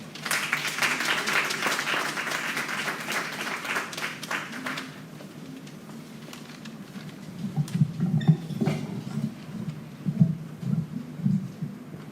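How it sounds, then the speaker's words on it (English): An audience at a teachers association's 60th anniversary function applauds warmly for about five seconds. The clapping then fades into a low room murmur with a few faint bumps. "Let's give her a round of applause."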